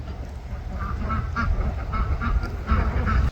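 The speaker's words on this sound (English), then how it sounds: "You beautiful goose." Domestic geese honking in a farmyard, a series of short nasal calls repeating at close range over a steady outdoor background.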